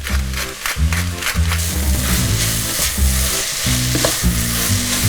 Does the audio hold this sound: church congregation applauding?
no